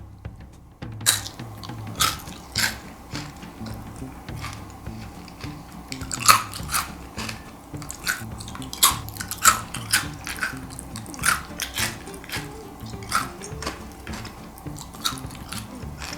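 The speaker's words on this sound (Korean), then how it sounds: "바나나 칩부터 한번 먹어볼까요?" Thin, crispy fried banana chips, dusted with cocoa powder and sugar powder, are bitten and chewed up close, giving a steady run of sharp crunches and crackles with no talking.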